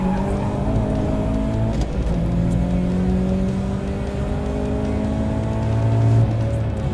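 A Subaru STI engine drones loudly from inside the car on a race track, revving steadily with pitch rising and falling as the throttle comes in and out, tires occasionally squealing.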